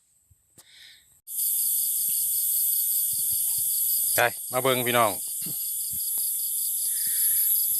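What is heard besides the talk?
mole cricket call played from speaker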